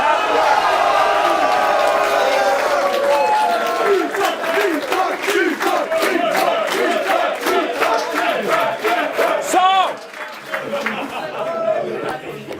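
A large crowd at an esports grand final shouts and cheers loudly and steadily throughout, with overlapping voices and whoops and a brief dip in the roar toward the end.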